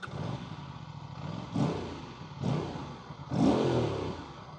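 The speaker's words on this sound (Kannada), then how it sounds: "ಗಾಡಿ ಎಕ್ಸಾಸ್ಟ್ ಒಂಥರ ಚೆನ್ನಾಗಿದೆ ಗುರು" An Aprilia RS457 with its stock exhaust revs three times over a steady idle, each short throttle blip rising and falling, close by and with no talk.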